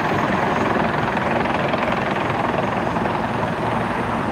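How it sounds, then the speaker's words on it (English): A helicopter lands at the West 34th Street Heliport in New York City, its rotor and engine roaring close, loud and steady throughout without any talk. "We got a helicopter landing right here at the West 34th Street Heliport."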